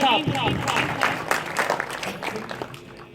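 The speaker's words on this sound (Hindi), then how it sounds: "आप सबकी भरपूर तालियों में साबिक उम्मीदवार कौमी असम्बली चौधरी मोहम्मद अजीम साहब।" An audience at a political gathering claps to welcome a former national assembly candidate to speak, brief scattered applause under a voice that fades over a few seconds.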